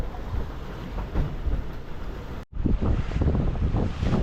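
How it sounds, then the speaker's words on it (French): Strong wind of 17-18 knots buffets the microphone aboard a sailboat over the wash of waves at sea near the Azores, with a brief dropout midway before the rushing noise resumes. "Il y a de nouveau 17-18 nœuds de vent."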